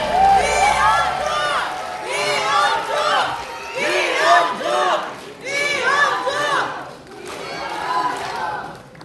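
A crowd of party members at a political convention in Chungcheongbuk-do greets a candidate with loud rhythmic chanting and shouts in repeated waves, cheering dominating over any clapping across about nine seconds.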